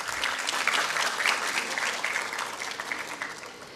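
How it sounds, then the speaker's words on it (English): Audience clapping at a graduation convocation for management diploma students, a sustained crowd of hands applauding at moderate volume and slowly tapering off. "Yeah, you can clap."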